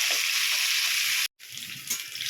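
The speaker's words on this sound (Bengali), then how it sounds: "খুব কড়া করে ভাজবো না।" Fish frying in a pan gives a loud, continuous hiss and sizzle close up, broken by a brief moment of silence before the crackling resumes slightly softer with small pops.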